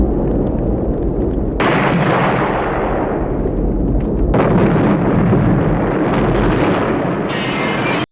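Loud, sustained explosion in the film Rambo: First Blood, a heavy booming roar with several fresh blasts bursting in and rumbling debris filling the whole stretch, no talk.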